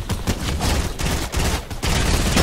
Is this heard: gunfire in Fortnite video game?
yes